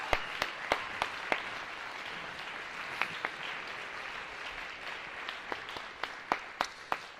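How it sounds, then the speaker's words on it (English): Applause from an audience at a Saturday night vespers gathering, a soft, distant wash of many hands with scattered sharp nearby claps standing out above it, no voices. "Give yourselves a huge round of applause"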